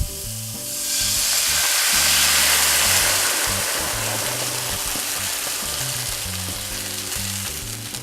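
Papaya juice poured into a hot pan with cooking pork, producing a loud, steady sizzle and hiss that swells as the liquid hits and then keeps bubbling over a low background hum.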